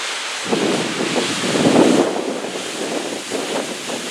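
A waterfall in Umpqua National Forest roars close by, a steady broad wash of rushing water with gusts of wind buffeting the microphone, no speech.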